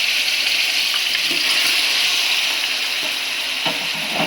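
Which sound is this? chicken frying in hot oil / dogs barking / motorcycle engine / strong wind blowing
chicken frying in hot oil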